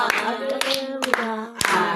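A church congregation claps hands in a steady rhythm, sharp claps cutting through loud sung voices that hold long notes over them.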